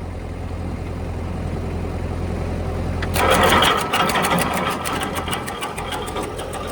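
A tractor-driven wood chipper, an Arpal AM-120TR powered by an MTZ-80 with a slipping belt, runs with a steady low drone. About halfway through, a loud rapid rattling chatter cuts in and continues to the end.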